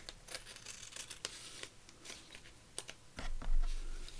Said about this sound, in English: I've just got a little bit here to trim off.